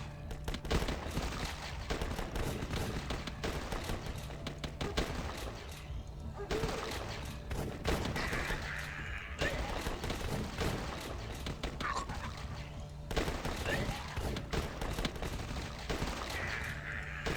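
Rapid bursts of gunfire and machine-gun fire ring out almost nonstop as zombies are shot in the video game Last Stand 2, with a few brief pauses and someone talking over the shooting.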